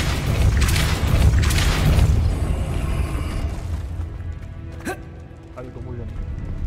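Casting the Depulso spell in Hogwarts Legacy sets off a loud, rumbling magical blast that dominates the first couple of seconds, then fades into softer thuds and faint clicks.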